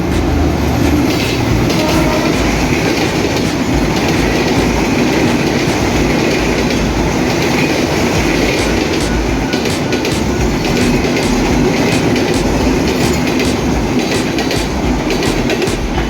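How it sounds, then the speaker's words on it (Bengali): The 765 Nilsagar Express rolls into Ullapara railway station on line two, a loud, continuous rumble of wheels and carriages with rhythmic clatter running steadily throughout. "সাতশো পঁয়ষট্টি আপনি সাগর এক্সপ্রেস উল্লাপাড়া রেল স্টেশনের দুই নম্বর লাইন দিয়ে এই মুহূর্তে প্রবেশ করছে"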